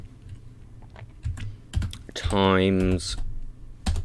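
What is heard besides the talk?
typing on a computer keyboard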